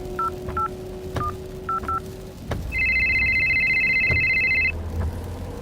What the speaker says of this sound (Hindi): कृतिका ने कार के ब्लूटूथ से एक फोन कॉल लगाया।